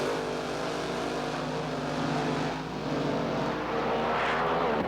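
A nitro drag racing car engine at the 1976 NHRA Gatornationals in Gainesville, Florida, keeps up a loud, continuous droning roar with a slight dip midway, the engine reportedly running into trouble.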